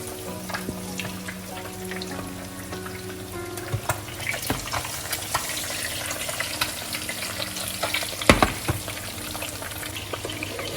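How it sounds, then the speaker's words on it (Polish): Turkey schnitzels sizzle and crackle steadily in hot fat in a frying pan, with scattered pops, light clinks and a brief sharper clatter near the end. "i smażymy kolejną partię"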